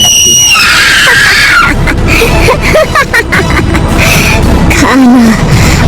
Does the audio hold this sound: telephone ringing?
no